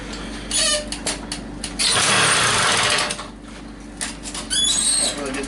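A small engine on an old barn-found JCPenney moped is cranked repeatedly, sputtering in short bursts that catch briefly and then die, with a longer rough attempt in the middle.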